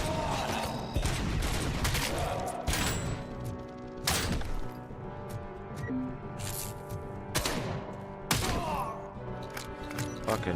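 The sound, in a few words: gunfire in the video game Robocop: Rogue City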